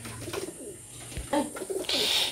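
Pakistani Teddy pigeons kept for sale coo close by in a few soft, throaty rolling phrases, with some brighter chirping toward the end and no talk.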